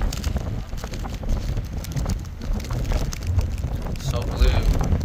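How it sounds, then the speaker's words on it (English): Strong wind buffets the microphone at a coastal lookout in Big Sur, a steady low rumble with gusts swelling near the end and no speech heard. "So windy up here."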